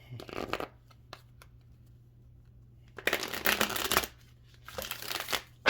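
Close riffling of a tarot deck in three short bursts, with quiet gaps and a faint steady hum underneath.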